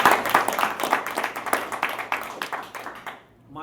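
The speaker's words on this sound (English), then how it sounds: "Let's give Michael a warm round of applause." Audience at a community meeting applauds steadily for about three seconds, a dense patter of claps that tapers off and falls nearly silent at the end.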